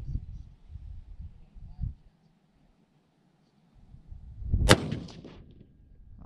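A single 22 Creedmoor rifle shot firing an 80-grain Berger VLD handload, one sharp report partway through, with quiet rumbling and handling noise around it.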